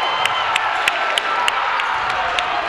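A basketball crowd at a college game between Ohio Christian and UC Clermont roars steadily after a blocked shot. Sharp shoe squeaks and thuds repeat over the continuous cheering.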